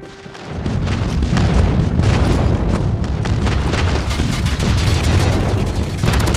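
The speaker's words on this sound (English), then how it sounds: "Friendly airstrike incoming." Airstrike explosions in Call of Duty Mobile rumble in a dense, continuous barrage of loud, heavy booms with crackling impacts layered over each other for several seconds.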